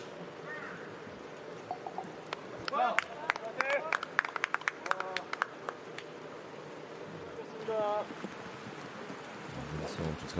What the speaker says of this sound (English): you know it's raining heavily when you can literally see the raindrops